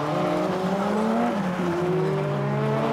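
A Renault 5 Turbo engine roars hard at high revs, the pitch climbing, dipping and climbing again as it is driven aggressively while drifting, loud and continuous.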